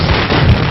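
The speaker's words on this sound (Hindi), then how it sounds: "पटाखे फोड़ो।" Firecrackers bursting during a village welcome, a dense, loud continuous crackle of rapid pops filling the whole moment with no gaps.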